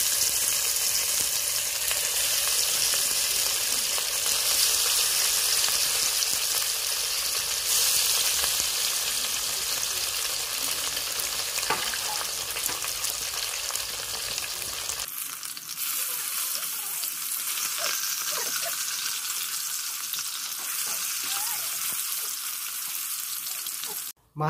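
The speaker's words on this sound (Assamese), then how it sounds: "মাছখিনি এপিচ এপিচকৈ ফ্ৰাই কৰি লওঁ" Kathla fish pieces rubbed with turmeric and salt frying in hot oil, a loud, continuous close-up sizzle and spatter that goes on steadily, then drops to a thinner hiss partway through.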